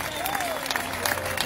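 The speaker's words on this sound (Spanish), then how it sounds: "un aplauso para nuestro atleta orocoveño" An audience at an outdoor festival in Coamo, Puerto Rico, applauding an athlete, with steady clapping from many hands just behind someone talking over a microphone.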